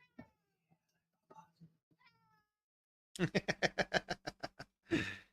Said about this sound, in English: Oh, George, you adorable cat.